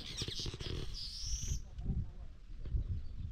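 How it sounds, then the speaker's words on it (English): Birds call from trees outdoors, a few bright chirps and whistles in the first half of the moment, mixed with rustling and low handling noise nearby. "The birds are making noise."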